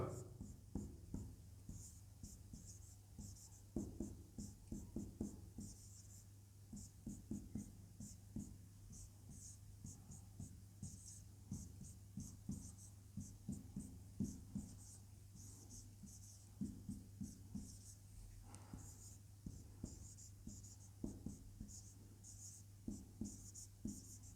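Marker writing on a board during a business talk, rhythmic squeaky strokes repeating in short bursts across the whole stretch over a steady low hum, with faint voice sounds at times.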